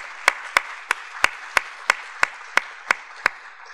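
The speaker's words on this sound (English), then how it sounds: "if maybe we could even have a round of applause" A conference audience in Nova Scotia claps in a sparse, even rhythm, about ten distinct, evenly spaced claps standing out over a soft background wash, fairly close and moderately loud.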